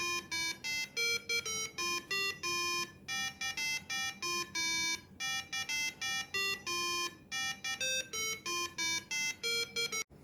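A piezo buzzer driven by an Arduino board plays the Happy Birthday melody as a run of clean electronic beeping notes in a steady rhythm, loud and close with brief gaps between phrases and no voices.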